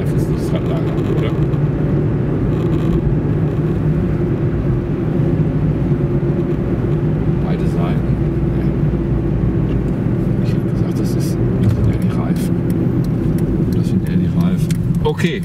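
Citroen C-Crosser accelerating hard in second gear with tyres rolling audibly, a steady loud in-cabin engine and road drone throughout, with occasional faint voices over it.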